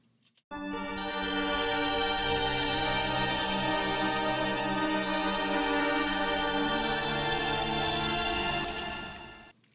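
A synth pad from the Kill September bank in Analog Lab 5 swells in, holds one rich sustained chord for several seconds, then fades out, smooth and steady with no talking.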